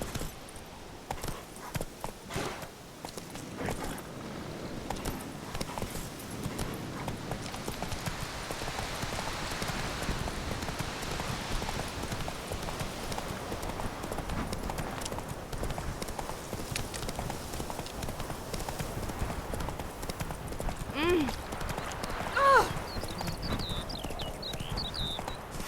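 Horse hooves clip-clopping at a steady gallop rhythm in The Witcher video game, continuous and fairly close under a soft rain-like wash of ambience, with no talk.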